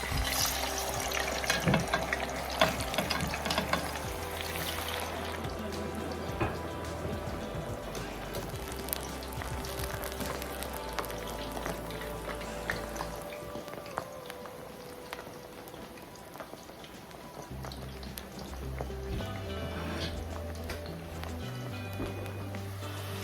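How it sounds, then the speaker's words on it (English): Potatoes frying in hot oil for extra crispy spicy fries, a steady bubbling sizzle that runs throughout at moderate loudness, with a low background hum. "there is some bubbling, which means that the oil is hot enough. Let's get these potatoes fried up."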